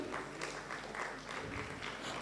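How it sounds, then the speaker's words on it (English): An audience claps steadily at a graduation ceremony, a continuous moderate wash of applause heard from a distance, fairly faint with no voices over it. "Please keep clapping, keep clapping."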